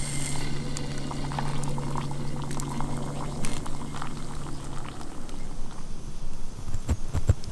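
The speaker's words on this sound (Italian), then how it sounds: "bisogna riempire con l'acqua fino a dove ci sta il segno, chiudere e aspettare 5 minuti" Hot water is poured into a dehydrated camping meal pouch while wild camping in a Danish forest. A steady, close rushing pour with a low hum runs for about five seconds, then fades into faint rustles and clicks.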